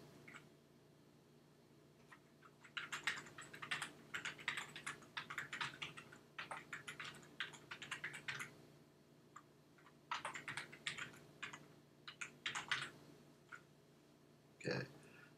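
Rapid bursts of computer keyboard typing come in clustered clicks with short pauses, moderately close and fairly quiet, followed by a single sharper tap near the end.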